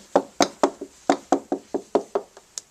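Knuckles tap a damp plasterboard wall near the skirting board and door frame, about a dozen dull, close knocks in an uneven quick rhythm with no talking.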